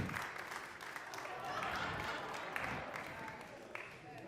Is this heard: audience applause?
yes